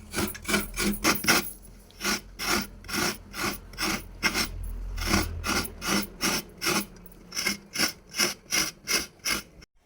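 Rhythmic, raspy scraping strokes of coconut being grated by hand repeat quickly and evenly, close up, with brief pauses between bursts.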